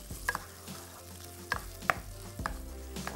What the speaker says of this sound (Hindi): ज़रा सा चिकन फ्राई करेंगे हल्का सा